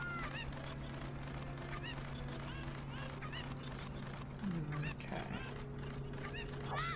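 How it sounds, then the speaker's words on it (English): A cucco chicken in Zelda Ocarina of Time clucks in quick repeated calls over a steady game hum, with a brief flurry of squawks midway and no talk over it. "Come here, chicken."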